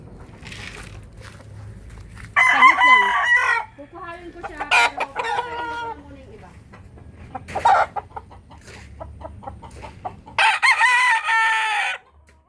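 A Golden Boy Sweater gamecock rooster crows loudly several times nearby, with hens clucking in between and a brief second crow at the end.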